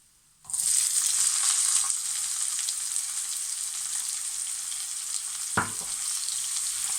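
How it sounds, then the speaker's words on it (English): Onions added to hot oil in a pan for a red kidney bean curry burst into a loud, steady sizzle that settles slightly, with a brief stir or scrape near the end, no talking. "Now next let's add our onions in."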